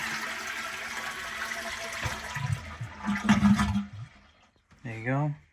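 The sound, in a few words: toilet being flushed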